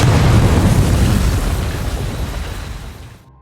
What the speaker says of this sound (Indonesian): Brock juga sudah memasang bom yang siap meledakkan markas Jabal